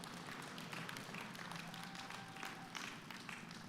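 An audience applauds at the grand opening of a community stage in Richland, a steady wash of many hands clapping at a distance, faint and continuous throughout.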